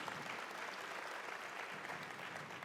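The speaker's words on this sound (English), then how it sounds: "Round of applause for them sponsoring this." A room of people at a parenting talk gives a round of applause, a dense, even wash of clapping heard from a distance and fairly soft throughout.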